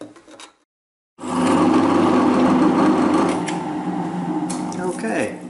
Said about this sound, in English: drill this out to the tapping size,